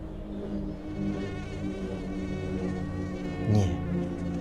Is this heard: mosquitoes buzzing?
yes